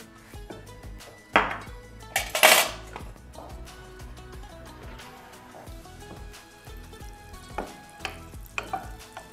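Oil and butter cubes hitting a hot pan give a sizzling, crackling fry with sharp bursts early on, then a quieter steady spatter and occasional utensil clinks, close and alone.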